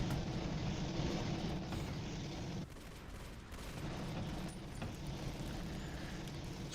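Gunfire rattles at the player in the Warhammer 40K Battlefield video game: dense, continuous shooting at a moderate level, with a brief dip in intensity partway through and no voices.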